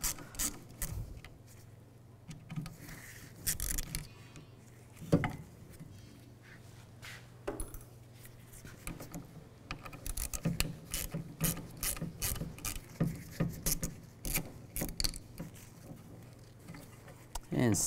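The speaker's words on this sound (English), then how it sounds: "Now I'm going to use a T15 socket and take these screws out." A ratchet fitted with a T15 socket backs out tailgate screws on a 2007-2013 Chevy Silverado 1500, giving repeated close clicking bursts with brief pauses and faint talk in between.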